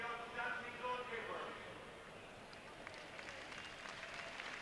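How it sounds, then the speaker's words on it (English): Football crowd of 66,000 at Croke Park during the 1998 All-Ireland Football Final applauding, a broad distant wash of clapping that swells and then thins, with a commentator speaking over it. "a generous round of applause here from all the fans in Croke Park"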